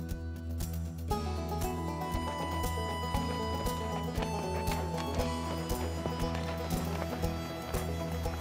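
Horses walking on a gentle trail ride around the Wawona Meadow Loop in Yosemite, with steady clip-clop hooves under a bed of music.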